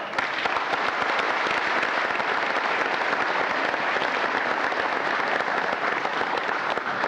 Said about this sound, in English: Give all of yourselves a round of applause.